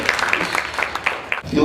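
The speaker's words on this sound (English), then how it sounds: "Give a round of applause." An audience at a prosperity summit interview claps in a quick, steady rhythm, moderately loud, with voices mixed in over the clapping.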